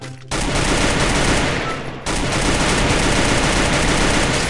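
Dense, loud gunfire in the video game Free Fire, a sustained roaring burst that briefly dips before resuming at full intensity.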